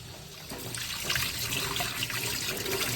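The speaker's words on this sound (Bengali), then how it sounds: "আমি 24 বার জল চালাবো আর মাছগুলোকে ধোবো" Tap water runs steadily into a sink while boal catfish are washed in warm water for a Jamai Sasthi meal, a close, continuous splashing rush with small trickling variations and no talk.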